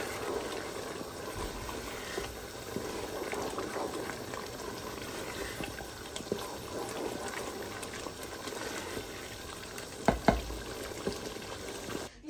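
Minced meat keema simmers in a pan at home, giving a continuous soft bubbling and sizzling hiss that stays steady and fairly quiet for over ten seconds, with a few louder pops near the end.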